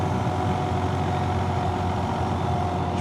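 A motorcycle engine with a surging fault runs close by, a loud, steady low drone with no clear rise or fall.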